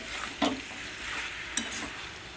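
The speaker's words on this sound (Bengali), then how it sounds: "এবার দিয়ে দেবো ভাজা চিংড়ি মাছটা, দিয়ে একটুখানি কষাবো" Green jackfruit with fried shrimp stir-fried in a pan gives a steady hiss of sizzling, broken by two sharp scrapes of a spatula against the pan, close and fairly loud with no talking.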